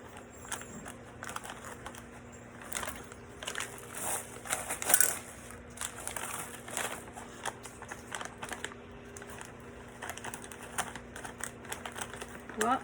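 A plastic bag of M&M candies is torn open, giving a steady run of crinkling and rustling with sharper crackles, close and moderately loud, while someone talks over it.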